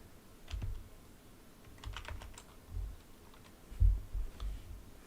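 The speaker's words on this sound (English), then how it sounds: "Let me go ahead and type in your name." Soft keystrokes tap on a computer keyboard as a name is typed, arriving in short irregular bursts of clicks, fairly quiet and close, with no talking.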